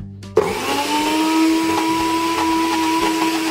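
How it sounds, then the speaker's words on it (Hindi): A mixer grinder whirs loudly as it blends green sandwich chutney, starting abruptly after a brief quiet moment and then holding a steady, high-pitched motor drone with a faint rising whine throughout. "ऐसे हमने 2-3 बार ग्राइंड कर लेना।"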